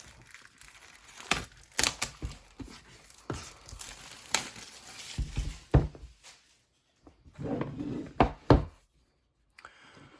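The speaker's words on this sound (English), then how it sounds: "So cut the plastic wrap away, peel it off, really simple." Plastic wrap on a Geekom AE7 mini PC box being cut and peeled away, heard as sharp crinkles, knocks and tearing bursts in uneven clusters, close, with brief quiet gaps.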